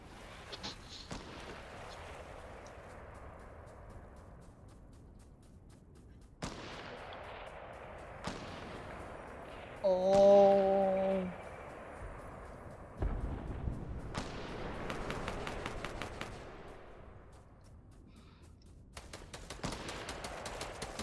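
Sniper rifle shots in a Fortnite battle royale match, several sharp distant cracks spaced seconds apart, each trailing a long echoing decay, with a brief tonal game sound between them.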